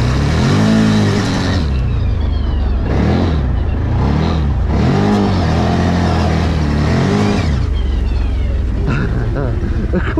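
An 8-year-old boy named Kuba rides an ODES 1000 off-road vehicle with a 1000 cc engine, its loud engine revving up and down over and over at close range, with voices talking over it.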